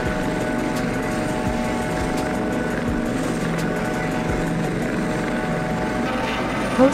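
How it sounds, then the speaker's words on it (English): A Coast Guard helicopter drones steadily with a low rotor thrum and a faint periodic beat, holding even in loudness the whole time. "Coast Guard helicopter"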